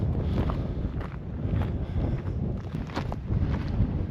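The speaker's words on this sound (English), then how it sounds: "It is quite windy today out here." Gusty wind buffets the microphone in a Death Valley canyon wash on a chilly January day, a continuous rumbling roar with irregular surges and faint scuffs and rustles.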